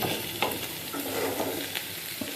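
Potato fry sizzles in a pan as raw tomato is added, with steady frying hiss and a few scrapes of stirring at close range and no talking.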